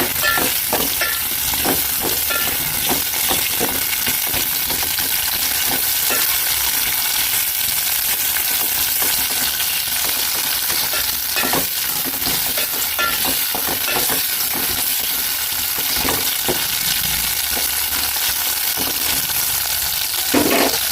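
Mushrooms fry in oil with a loud, steady, bright sizzle and hiss, and frequent stirring scrapes and taps run throughout without any talk.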